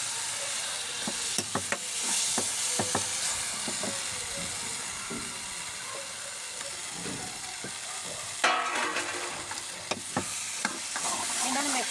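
Mashed eggplant for bharta stirred in a hot pan, a steady sizzling hiss broken by repeated scraping spoon strokes and occasional louder splutters, close and continuous.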